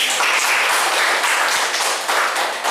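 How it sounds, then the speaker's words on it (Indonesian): An audience applauds at the close of a teaching session, with dense continuous clapping from many hands, loud and sustained for a few seconds. "Kita kasih aplaus dulu"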